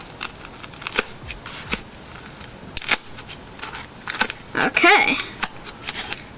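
Scissors snip paper to cut out a stamp shape, a string of short crisp cuts and rustles close by, with a brief spoken word among them.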